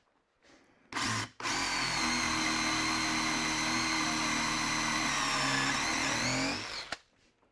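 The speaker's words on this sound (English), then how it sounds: "I can hold a drill pretty straight" A power drill bores through timber for a Lutyens bench's top rail, a brief start then a loud steady whine lasting about six seconds before spinning down, with no talk.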